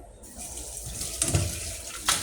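Tap water running into a container, fetched for cooking a quick soup: a steady hissing stream for about two seconds, close and fairly loud, with small splashy bursts.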